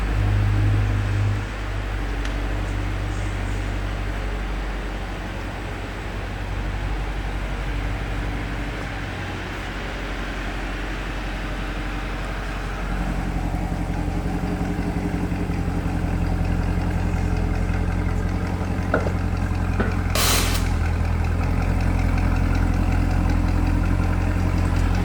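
A Chevrolet C8 Corvette Z51 with an LT2 engine and custom carbon parts rumbling steadily in a low continuous drone, rising in level partway through and holding a dense, even engine tone.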